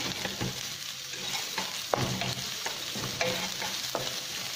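Onions crackle and sizzle in oil as a spoon scrapes through the pan in repeated strokes, close and clear, with no talking.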